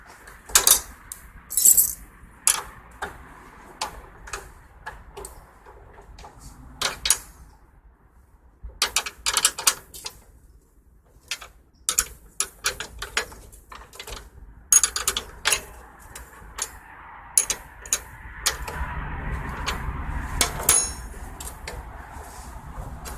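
On a John Deere LT155/LT166 Freedom 42-inch mower deck, a pulley wheel is loosened with a tool, giving scattered sharp metallic clicks and ratcheting taps in irregular bursts with quiet gaps, no voices.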